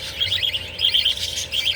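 Young parakeets chirp close by in quick, bright bursts that repeat in clusters over a steady low background hum.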